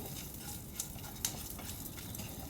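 Curry leaves and a cut dried red chili hitting hot oil for tempering give a steady, moderate sizzle with light crackles and a couple of sharp pops, no voices.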